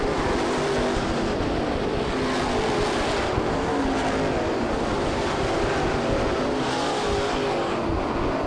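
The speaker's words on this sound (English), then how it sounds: "They're beginning to pull away from the 3rd place car of Doug Horton." Dirt late model race cars roar around the oval at Bubba Raceway Park in Ocala, a continuous dense engine drone that swells and fades as packs pass at a distance.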